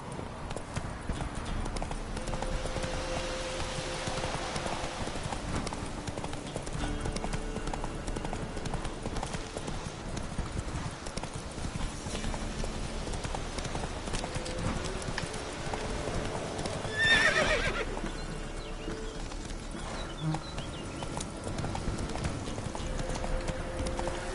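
Roach, a horse in The Witcher 3, gallops with continuous rhythmic hoofbeats for a long stretch, and a brief whinny rises about two-thirds of the way through amid game ambience.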